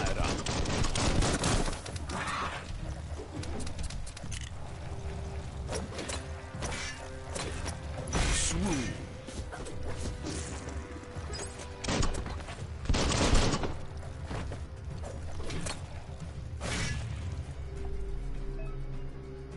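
Gunfire in the video game Biomutant, repeated heavy bursts of shots and thuds over a droning game soundscape, with someone talking between volleys.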